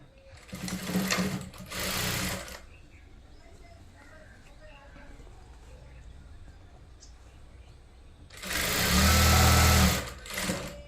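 A domestic sewing machine stitching a blouse seam runs in two short loud bursts, then falls to quiet handling, then runs one longer burst near the end, close by.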